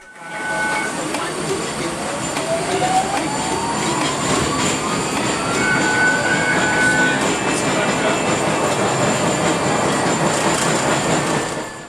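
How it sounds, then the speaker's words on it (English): A Portland Streetcar tram running on rails, a loud continuous rumble with rising wheel squeal and whine throughout, heard from on board. "Proof of valid fare is required on Portland Streetcar."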